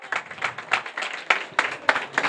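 An audience claps at a 2025 kolam competition prize ceremony, with a steady run of sharp, fairly close hand claps and a few stronger bursts spread across the whole moment.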